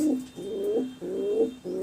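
Pigeons in a loft give soft, low, rolling coos in three or four repeated phrases, close and steady with a faint high hum behind them.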